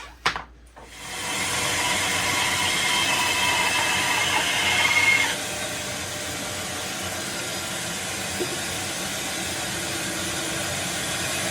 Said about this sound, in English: let's go to the bandsaw